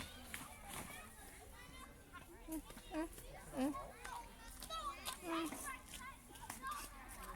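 Young children play and shout at an outdoor playground, with chatter, squeals and scattered footsteps throughout; an adult speaks in between.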